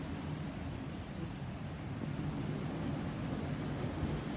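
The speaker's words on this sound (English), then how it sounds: "even though down there there is a beautiful wind" Steady outdoor wind rushing past the microphone in Nikko, Japan in winter, a constant broadband buffeting roar with no talk.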